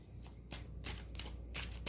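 Close, quiet riffling and slapping of a deck of tarot cards being shuffled, in several quick bursts with no talking.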